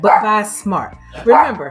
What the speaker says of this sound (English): I'm sorry for the barking dog.